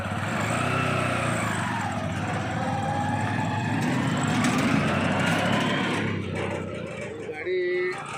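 An agricultural vehicle engine runs steadily at a high idle, a continuous mechanical drone heard close up with people talking over it throughout.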